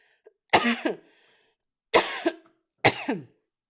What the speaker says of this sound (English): I can see this cough coming back into my life.